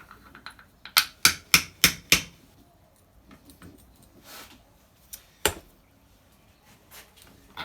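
A light hammer taps on a seized part of an RM125 motorcycle: a quick run of six sharp, close metallic knocks, then quieter scattered taps and one more hard strike, with no talk.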